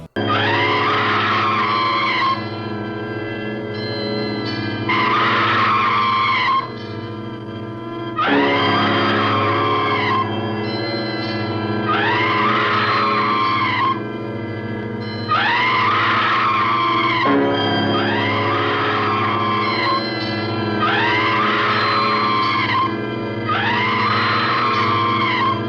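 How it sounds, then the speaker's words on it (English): A woman's scream from the 1972 horror film Blood Freak, badly dubbed and looped, repeats the same shrill cry about every two to three seconds, loud and identical each time for the whole stretch. "Check out the sound of this girl screaming in horror."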